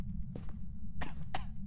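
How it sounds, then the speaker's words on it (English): A person coughing after laughing too hard, three short, sharp coughs close to the microphone over a low background rumble. "I'm coughing now."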